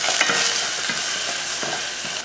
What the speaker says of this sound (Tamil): ரசம் தாளிக்கிறதுக்கு எண்ணெய் ஊற்றிடலாம்.